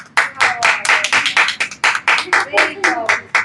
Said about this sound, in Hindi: सबसे पहले मैं चाहूंगी वंशिका के लिए ना आप सब जोरदार तालियां बजाइएगा।